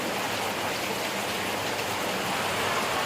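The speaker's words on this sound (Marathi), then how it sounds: "बघू शकता तुम्ही पाऊस काय जोरात येते" Heavy rain pours down steadily, a dense, continuous hiss of drops beating on surfaces, close and loud for the whole stretch with no voices.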